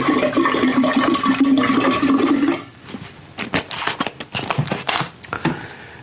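Liquid from two jars pours steadily into bourbon being proofed, a loud gushing stream for about two and a half seconds, then breaking into scattered splashes and sloshing.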